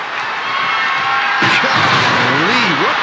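Arena crowd in WWE 2K24 roars and cheers loudly and steadily during a Undertaker vs. John Cena ambulance match, with a commentator's voice rising over the noise in the second half.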